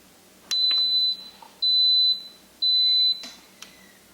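An Instant Pot pressure cooker gives three evenly spaced, clear electronic beeps, each about half a second long, close and alone in a quiet kitchen with a few faint taps between them.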